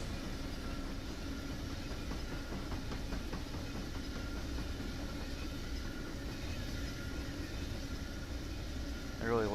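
Freight train locomotives running in the Run 8 train simulator game, a steady rumbling engine drone with rolling rail noise throughout, constant and moderately loud, with a brief higher squeal near the end.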